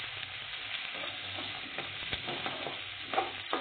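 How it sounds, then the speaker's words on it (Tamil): Onions sauté in an oiled pan for brinjal sambar, a steady close sizzle and crackle with occasional stirring scrapes, with no talking. "வெங்காயம் சேர்த்து நல்லா வதக்கி விட்டுடலாம்."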